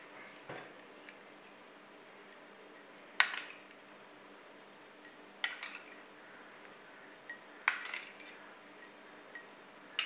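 Banana stem raita being mixed with curd in a bowl, a spoon giving a few sharp clinks and scrapes against the dish amid quieter wet stirring, spaced irregularly in a quiet room.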